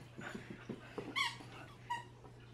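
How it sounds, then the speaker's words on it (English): A dog's squeaky toy gives a few short, sharp squeaks at close range between soft snuffling and movement, with no talking. "That's good, you found your squeaky."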